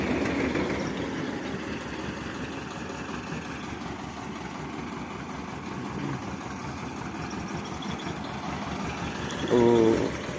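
A homemade tractor engine idles steadily and continuously at close range, a low rumbling chug with constant vibration, and a brief louder knock near the end.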